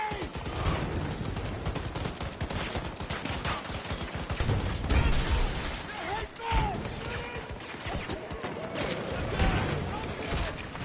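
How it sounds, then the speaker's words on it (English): Grenade blast and heavy gunfire in a shooter video game, a dense, loud barrage of rapid shots and crashes across the whole stretch, with a bigger burst near the middle and voices talking over the chaos. "Grenade!"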